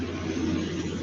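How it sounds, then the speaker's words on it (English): A big truck passes by outside, a low steady engine rumble with a droning hum that holds level through the brief moment, no voices over it. "Yeah, big truck's going through."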